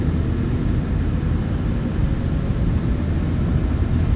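Twin turbofan engines of a PMDG 737-900ER in a flight simulator spool at takeoff power, a loud, steady broadband roar with deep rumble that holds constant throughout, with no voices over it.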